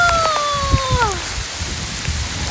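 Steady rain falls and patters outdoors, a constant hiss throughout, with a brief falling tonal whine early on.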